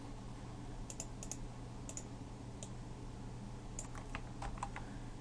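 Keys on a computer keyboard pressed in short irregular runs to type a password, faint clicking close to the microphone over a steady low background hum, with no talking.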